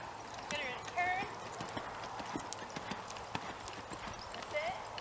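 A horse loping under a rider in a training session, its hoofbeats sounding as a steady, rhythmic clip-clop with occasional whinny-like squeals over background noise and voices.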